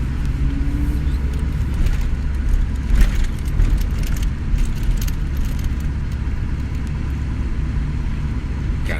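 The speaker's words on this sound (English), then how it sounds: "Kind of just holding it at a little idle here, just barely driving." Car engine with suspected underboost and cylinder 4 fault codes idling while the vehicle creeps along on the road, a steady low rumble and broadband road hum throughout, fairly loud with small jingly rattles and no talk.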